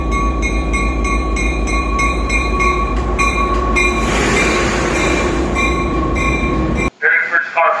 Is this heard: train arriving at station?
yes